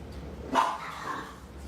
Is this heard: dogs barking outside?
yes